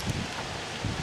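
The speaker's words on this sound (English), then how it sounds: "It's kind of windy out today." Wind blows outdoors where a tin can camp stove is being lit, a steady rushing noise with low buffeting gusts against the microphone at the start and end; no talking.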